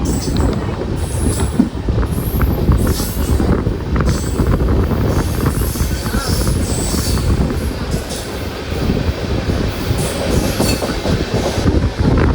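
A train rumbles loudly and continuously close by at Kumbakonam railway station, wheels clattering and squealing on the rails.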